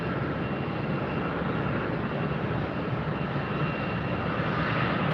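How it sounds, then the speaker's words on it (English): A Cayman Airways airliner passes at Tampa airport, giving a continuous moderate engine roar that stays even and unbroken for the whole stretch, with no talking. "There goes the Cayman Airways."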